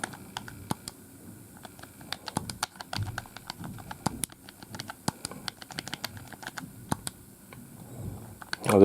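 Buttons on an M17 handheld game console are tapped in quick, irregular clicks, a close, dry patter of presses that continues steadily with short pauses and no talk.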